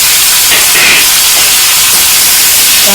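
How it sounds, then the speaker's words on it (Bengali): Tomatoes tip into a tablespoon of hot oil and burst into a loud, close hiss that holds steady throughout. "এই টমেটোগুলো তেলের মধ্যে দিয়ে দিলাম।"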